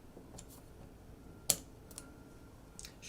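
Scattered light clicks of computer keyboard typing, a few soft taps with one sharper keystroke near the middle, close by and without voices.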